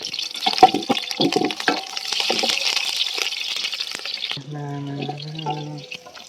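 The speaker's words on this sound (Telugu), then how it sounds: "ఆయిల్ వేడెక్కినాక ఇంకా కరివేపాకు కూడా వేసేసాము పచ్చిమిర్చి కూడా వేసేద్దాము ఆయిల్లోనే" Curry leaves and green chillies frying in hot oil for a big pot of country chicken curry, a loud crackling sizzle that cuts off into quieter sounds with a tonal hum near the end.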